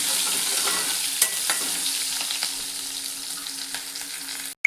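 Chopped onion and peanuts sizzle and crackle in a hot pan in a home kitchen, with a steady, close, fairly soft frying hiss and a few small pops, and no talking.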